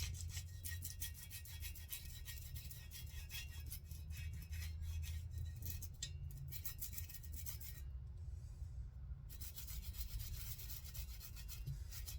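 A brush scrubs the barrel of a Marlin 93 rifle in fast, continuous back-and-forth strokes, a close, gritty rasping that keeps a steady rhythm with one short pause.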